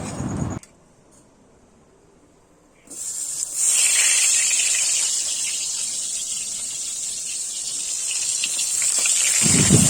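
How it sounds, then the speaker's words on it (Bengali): Pointed gourd (potol) dropped into hot oil in a kadai bursts into a loud, steady sizzling hiss after a brief quiet stretch, holding strong and even to the end. "এবার পটলগুলো ভেজে নেব।"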